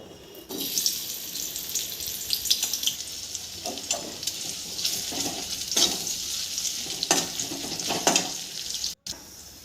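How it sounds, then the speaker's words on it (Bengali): Chopped onions fry in hot oil in a wok with a steady, moderate sizzle and crackle, and occasional stirring scrapes can be heard; no one speaks. "দেখো, আমার পেঁয়াজ কুচিগুলি ভাজা হচ্ছে।"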